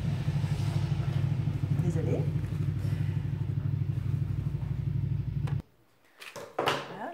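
A motorcycle engine drones steadily and loud for about five and a half seconds, with a rattling, revving character, then cuts off abruptly, leaving near silence before someone speaks briefly and a few handling noises follow.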